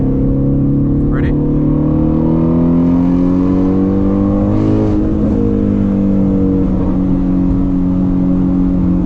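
A Shelby GT350 Mustang's engine revs hard while driving, a loud continuous drone whose pitch climbs and falls steadily through the gears, close and unbroken for the whole stretch.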